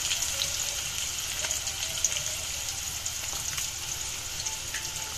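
Ginger, onion and curry leaves fry in oil on a stove with a steady, bright sizzle and occasional small pops and stirring ticks, moderately quiet and continuous with no talk.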